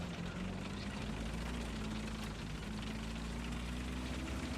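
The engine of a Merkava Mk.2B main battle tank in the video game War Thunder drones steadily and fairly faintly, a continuous low, even hum with no breaks.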